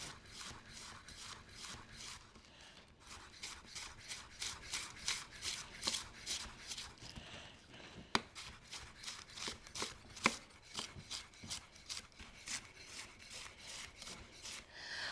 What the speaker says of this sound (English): Let's thinly slice our cabbage.